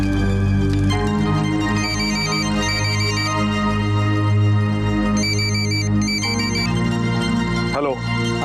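A telephone ringtone plays in a Marathi family drama scene, a repeating electronic ring pattern sounding in bursts over steady background music with no talk.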